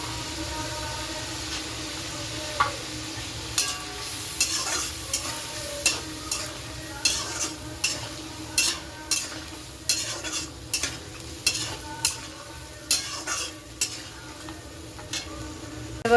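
A spoon stirring fish roe curry with turmeric as it sautés in oil in a pan: a steady low sizzle under a regular series of scraping strokes, about one every second, close and clear.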